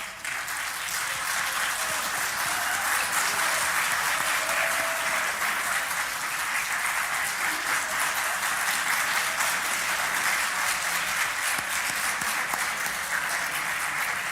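Sustained applause fills a parliament chamber, with many pairs of hands clapping steadily and densely for the whole stretch at an even, fairly loud level, with no speech over it.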